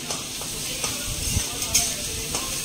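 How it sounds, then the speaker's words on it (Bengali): Onion sizzles steadily in a hot pan for egg posto, a continuous crackling fry with small pops and faint stirring scrapes throughout. "এখন আমি পেঁয়াজটা দিয়ে দিলাম"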